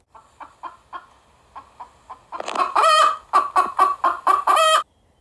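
Hens cluck as a sound effect: a few soft, evenly spaced clucks first, then a louder burst of rapid agitated clucking and squawks from several birds close by.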